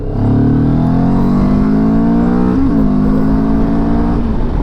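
A car engine pulling hard in second gear at around 25 mph, a loud, close, steady drone whose pitch climbs smoothly, with a brief wobble partway through before rising again.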